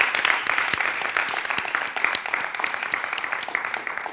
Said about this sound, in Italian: e mi dedicherei anche un applauso.